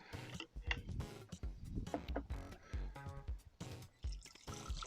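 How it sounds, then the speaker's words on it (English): Boiling hot water pours into a saucepan to soften wood veneer for a bentwood ring, a close, quiet splashing and trickling with uneven gurgles throughout. "Pour in our hot water."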